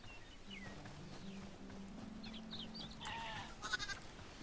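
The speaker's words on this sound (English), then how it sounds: "Sheep." Sheep in the video game Hytale bleat faintly over a steady game background hum, a few short wavering calls in the middle distance with some clicks near the end.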